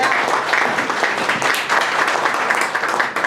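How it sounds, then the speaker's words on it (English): Applause from a breakfast event audience fills the room, a dense continuous patter of many hands clapping at steady loudness for several seconds, with no voices over it. "let's give him a round of applause"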